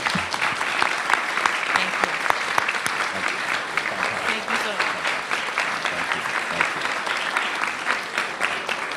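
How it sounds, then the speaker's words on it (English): An audience applauds a guest speaker at a National Press Club luncheon, a sustained dense round of clapping that fills the whole stretch while a voice offers brief thanks over it. "How about a round of applause for our guest speaker today?"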